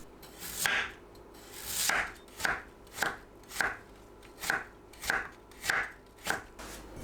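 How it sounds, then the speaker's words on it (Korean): A knife chops steadily on a cutting board, cutting radish into thin strips, about a dozen crisp strokes in a regular rhythm, close and fairly quiet. "무를 채 썰어 주세요"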